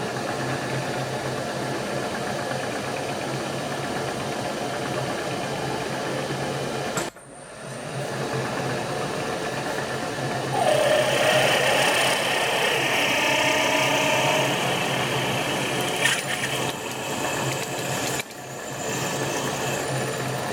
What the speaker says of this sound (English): We're going to drill straight through with a 3/8 diameter drill